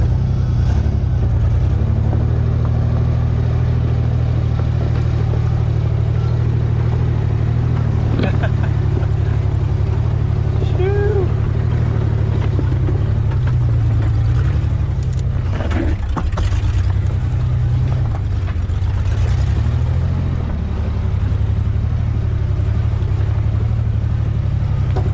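A Ford Bronco engine rumbles loudly and steadily as the truck crawls off-road through a deep, washed-out ditch, the low drone shifting slightly under load, with people talking over it.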